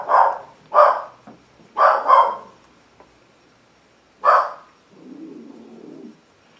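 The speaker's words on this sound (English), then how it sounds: "You hear my dog?" A dog barks in loud bursts: a pair, then two more close together, then a final single bark, followed by a low rumbling murmur.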